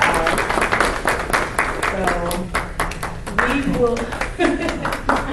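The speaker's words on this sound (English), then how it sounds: "So we'll give them a round of applause." Applause for five brothers at a men's forum on community violence, steady clapping from an audience running throughout beneath a voice speaking over it.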